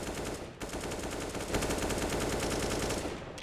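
Rapid automatic gunfire in Counter-Strike on the Inferno map, a loud, dense burst of shots running almost continuously for a few seconds with a brief gap near the start.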